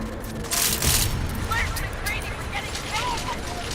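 Bursts of gunfire and booming impacts fill the action video game Deus Ex: Mankind Divided in a loud, dense, continuous barrage, with a speaking voice mixed underneath.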